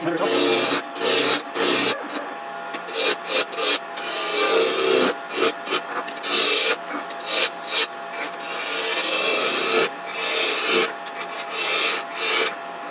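A lathe roughs out scrap wood, the gouge rasping and scraping against the spinning blank in loud, uneven bursts broken by short pauses, close and without talking.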